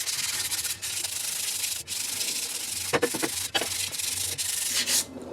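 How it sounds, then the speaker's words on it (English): Steady, close scratchy rasp of sandpaper worked by hand over a chrome differential cover on a 1997 GM F-body, continuous strokes with a few brief pauses and small knocks, no talking. "I'm actually going to take just a little piece of sandpaper, since mine's a chrome cover."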